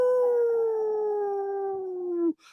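A man imitates a wolf howl with one long, loud, sustained tonal note that drifts slowly downward in pitch before cutting off abruptly, alone and close.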